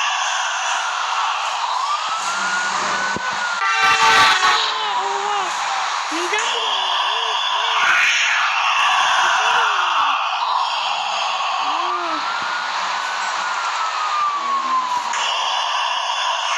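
A police car siren wails continuously in the background, rising and falling, while voices chatter over it and electronic game sounds play.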